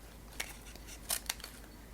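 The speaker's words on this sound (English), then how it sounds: "just take my scissors and I'm just gonna fussy cut" Scissors fussy cut a die-cut paper card, giving three or four soft, close, crisp snips at irregular intervals against a quiet background.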